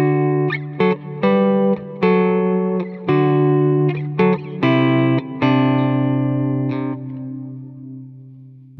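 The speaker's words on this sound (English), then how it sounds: "This reverb adds a little bit, space, some, ambience stuff." Electric guitar tone from a Kemper Profiler with reverb at a 47% mix and 95 ms pre-delay: a run of loud, distorted chords and notes in short bursts, ending on a sustained chord that rings out into a spacious reverb tail.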